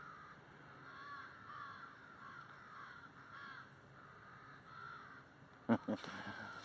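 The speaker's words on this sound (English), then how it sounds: "can you hear all them crows out there?" Several crows caw repeatedly, rhythmically and at a distance, in woods where morels are being picked, over a steady outdoor hum, with a few close sharp knocks near the end.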